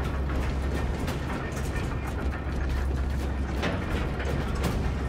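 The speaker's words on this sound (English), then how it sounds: "The elevator is almost here." A Space Marine 2 elevator drawing near with a steady, loud mechanical grinding and rattling, dense clanking gears running continuously with no pause and no voices.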